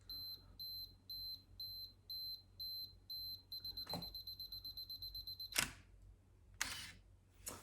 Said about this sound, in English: Let's just press the shutter button down,